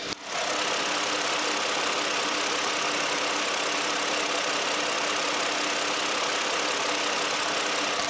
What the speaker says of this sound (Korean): 엔진 소음도 한번 들어보시죠